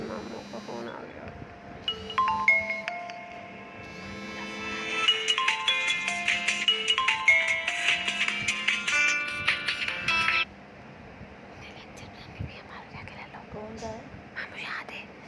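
A mobile phone rings with an incoming call during a mathematics lecture, its bright, repeating electronic melody growing louder for about eight seconds before cutting off abruptly, with quiet speech around it.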